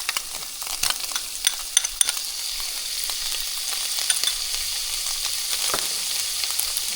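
Minced garlic sizzles steadily in a hot skillet of beef and refried beans, a continuous crackling fry with a few sharper pops and light stirring scrapes, close and alone.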